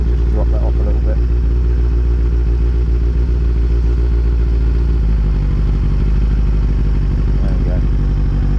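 A Kawasaki ZX6-R motorcycle engine idles steadily and loudly up close, a constant throbbing drone with some mechanical clatter, while someone talks over it.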